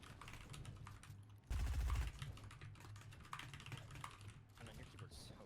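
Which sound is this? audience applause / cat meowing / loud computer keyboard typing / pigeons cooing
loud computer keyboard typing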